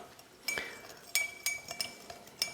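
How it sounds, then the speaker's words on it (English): A spoon stirs sugar in a glass mixing glass for an Old Fashioned, making a series of light, irregular clinks and taps that are close, quiet and alone. "I'm still stirring it down, trying to dissolve as much sugar as possible."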